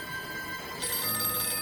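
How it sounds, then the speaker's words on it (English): An old telephone bell rings in a brief, continuous metallic trill in a Doctor Who episode, heard over steady background hum. "What am I supposed to do with a ringing phone?"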